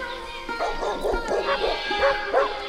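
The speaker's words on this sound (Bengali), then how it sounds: "শিয়াল কুকুরের পাল্টা আক্রমণ," Several dogs and jackals yip and bark in quick, uneven bursts, moderately close, with a faint low background hum, at night.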